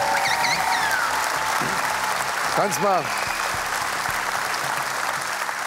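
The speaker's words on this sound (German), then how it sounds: "großer Applaus" A TV game show studio audience applauds in a steady, dense wash, while people talk over it up close.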